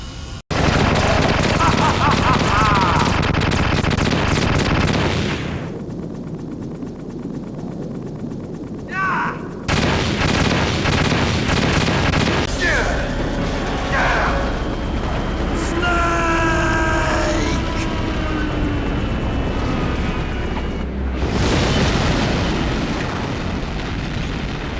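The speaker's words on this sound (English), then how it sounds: "Liquid will come back once more and launch a final barrage on the entire roof" A final explosive barrage across the roof in Metal Gear Solid, loud booms and bursts of gunfire rolling on for many seconds with short lulls, plus an electronic tone and voices woven through.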